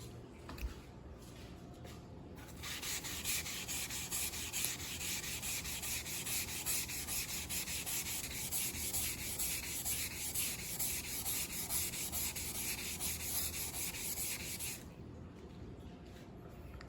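A gray abrasive pad scrubs a stainless steel refrigerator door with a polishing compound, producing a steady, close, rasping rub that builds after a couple of seconds and runs continuously before stopping, with no talk.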